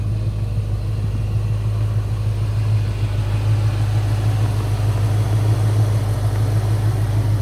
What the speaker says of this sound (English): Motor just purrs